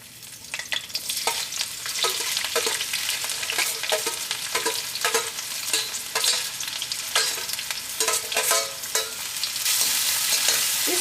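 Onions, curry leaves, ginger and green chilies sauté in hot coconut oil for a Kerala vegetable stew, a steady bright sizzle with repeated scraping stirs of a spoon through the pan, close and continuous.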